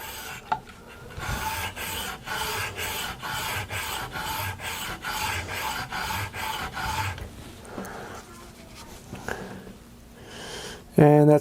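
A Stanley 45 or 55 plane iron is rubbed back and forth on a fine sharpening stone, giving a steady rasping scrape in rapid regular strokes, close and fairly loud, then slower scattered rubs toward the end.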